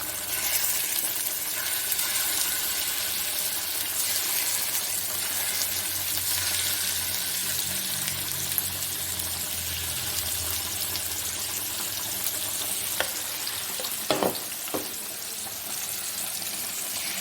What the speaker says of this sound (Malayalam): ഇനി ഇതിലേക്ക് നമുക്ക് മീൻ ഓരോന്നായിട്ട് പരത്തിക്കാം.